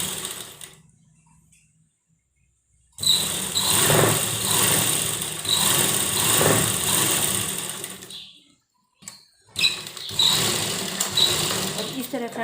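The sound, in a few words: sewing machine stitching a baby frock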